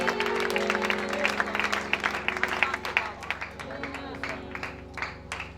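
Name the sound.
congregation clapping and ululating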